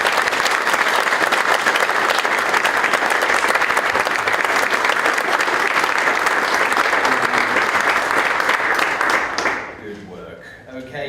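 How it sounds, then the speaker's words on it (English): Loud, dense applause from an audience at an awards dinner, cheering the night's finalists, holds steady for about nine seconds and then drops away abruptly, leaving some murmuring behind it. "how about a huge round of applause for all of tonight's incredible finalists"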